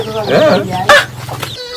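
A chicken clucks close by in a quick run of short calls, with voices talking at the same time.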